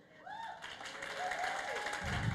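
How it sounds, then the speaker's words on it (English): A round of applause at a Sydney World Pride LGBTQIA+ evening event, starting faint under a voice and swelling into fuller, denser clapping toward the end. "please give Danica, Malaika, everyone that's contributed tonight an amazing round of applause."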